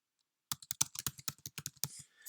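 Keys are tapped on a computer keyboard in a quick, close burst of about a dozen crisp clicks with uneven spacing, heard alone without speech.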